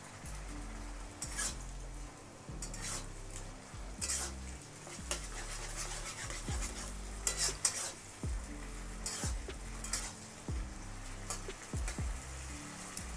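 Green chili, ginger and tomato paste stirred in a frying pan: soft, fairly quiet sizzling with regular scraping strokes of a spatula against the pan, continuing steadily without speech.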